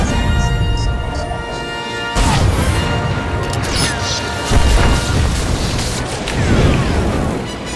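A gun emplacement cannon firing in the Star Wars: The Old Republic warzone on Novare Coast, heavy booming blasts and crashing impacts recurring over a dense battle din, loud and near.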